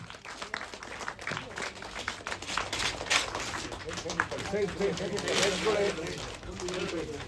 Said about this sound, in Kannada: ನಿಮ್ಮೆಲ್ಲ ಚಪ್ಪಾಳೆಯ ಮುಖೇನ ನಾವು ಈ ಶುಭ ಕಾರ್ಯಕ್ಕೆ ಅದ್ಭುತ ಕ್ಷಣಕ್ಕೆ ಶುಭವನ್ನು ಕೋರೋಣ